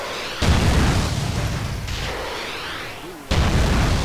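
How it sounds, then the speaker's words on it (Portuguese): Rocket launcher blasts in GTA San Andreas, two heavy booming explosions with a sustained roaring rumble between them, loud and close. "Vamos ver com o lança-míssil, acho que é melhor."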